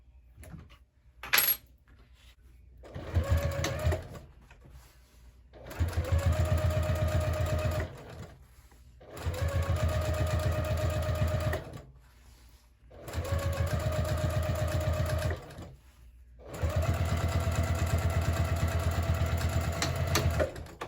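A sewing machine fitted with a Teflon presser foot stitches a sticky vinyl crossbody bag, running in five steady bursts of a few seconds each with short pauses between them, close and fairly loud with no talking.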